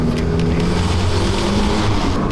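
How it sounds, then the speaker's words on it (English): The rebuilt VW Golf MK2 GTI engine idles at low revs with a steady, loud rumbling drone that stays close and continuous throughout. "It seems to drop quite low, the revs sort of round about sort of 400 to 500 RPM, which is perhaps a bit too low"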